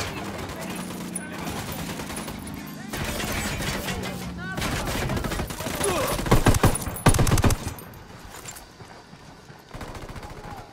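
Automatic gunfire from Ghost Recon Wildlands rattles in long fusillades, with bursts growing denser and louder toward the middle and a few closer heavy shots, under occasional game voices.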